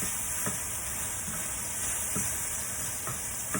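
Vegetables for a vegan butter bean chunky mix browning in a hot pan give a steady, faint sizzle and hiss, with a few soft stirring scrapes at irregular intervals.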